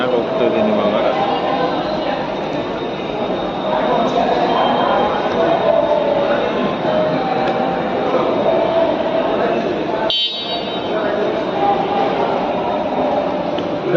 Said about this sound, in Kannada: ಮೆಟ್ರೋದ ಬಂದಾಯಿತು.